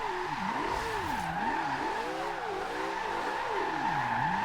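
Porsche 918 hypercar in Forza Horizon 2 drifting with rising and falling tire squeals over a steady engine drone, sustained and prominent with no talking.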